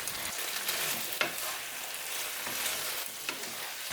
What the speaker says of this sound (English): Then I'm placing in the peppers and I'll keep stir frying this for another 2 to 3 minutes.